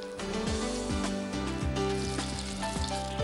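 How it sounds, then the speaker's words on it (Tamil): Stuffed mushrooms fry in a pan with a continuous, even sizzle, broken by a few soft clunks of the pan or utensil, close and steady with no talking. "இந்த ஒரு பக்கம் நல்லா ஃப்ரை ஆனதும் அடுத்த பக்கம் திருப்பிக்கலாம்."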